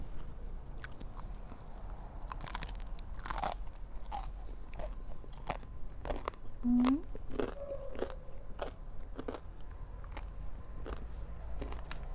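Close crunching bites and chewing of khao jee, grilled sticky rice, with soft sharp crunches scattered over a steady low background hum; quiet mouth sounds, no clear talk.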